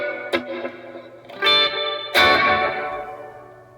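Guitar chords ring out through a Keeley Caverns V2 reverb pedal with its decay turned down, each strum trailing a short wash of ambience that fades fairly quickly; three main strums, no talking.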